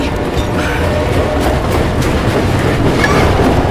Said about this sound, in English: There's still a train running.